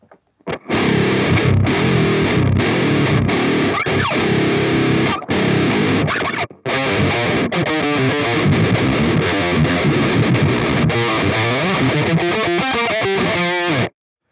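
Heavily distorted electric guitar through a Line 6 Helix with a thick, low octave-down layer, played in sustained chords and choppy phrases, loud and continuous with one brief pause.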